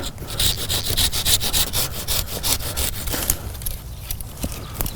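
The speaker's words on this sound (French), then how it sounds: "Je vais donc utiliser une scie de jardinier, une scie à denture japonaise." A Japanese-tooth garden saw cutting through a buddleia branch outdoors, fast rhythmic rasping strokes in a steady back-and-forth pattern, close and loud, slowing and becoming irregular toward the end.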